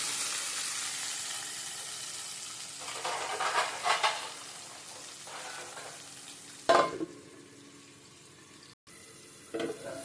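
Onion, curry leaves and tomatoes sautéing in oil, a steady broadband sizzle with a few louder bursts of stirring and clatter, ending with a brief drop and a final clink; no one speaks.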